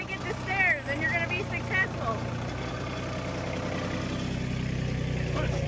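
A tractor engine idles and runs steadily at moderate distance through the whole stretch in an Alaskan winter setting, a low continuous rumble with people talking over it early on.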